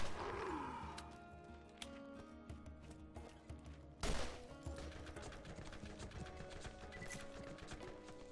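Gunfire in the shooter game Borderlands, a string of sharp shots and impacts scattered through the clip with a louder blast near the middle, over a steady game backdrop.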